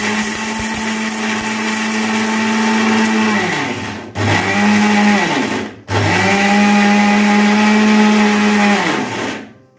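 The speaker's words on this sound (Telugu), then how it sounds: "ఈ విధంగా అన్నీ మిక్స్ చేసేసి మిక్సీ పట్టేస్తాను" A kitchen mixer grinder whirs loudly while blending capsicum masala, running in three bursts separated by two short pauses, its motor pitch sagging and recovering as the blades work through the mixture.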